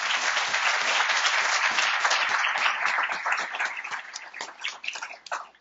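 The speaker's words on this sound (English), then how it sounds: "Let's give her a round of applause." An audience at a Hall of Distinction induction ceremony breaks into a dense, sustained round of applause, many hands clapping together close by, thinning out toward the end.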